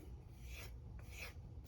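An M390 steel knife edge drawn across a silicon carbide sharpening stone gives a close, steady abrasive rasp in a few strokes, with short pauses between passes.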